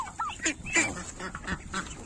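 Several farm ducks or geese feeding on bread, quacking and honking close by in a noisy cluster, calls overlapping in quick irregular bursts.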